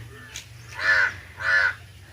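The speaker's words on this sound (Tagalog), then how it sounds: "narinig nyo yung ibon guys ang lakas ang tunog ng ibon" A bird gives two loud, harsh caws in quick succession, close by, over a low steady background hum.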